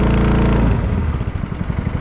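The engine of a VSI Legacy Series 750 liquid deicing sprayer drops from a loud steady drone to a lower, lumpier idle, close by and continuous.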